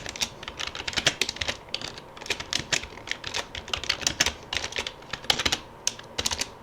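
Rapid irregular keystrokes on a computer keyboard as a file name is typed, close and crisp, in uneven bursts with short pauses and no talking.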